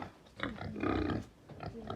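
Quiet pig grunts out in a yard in rural Jamaica, a few short snorting bursts close together with a brief pause between, faint and close by.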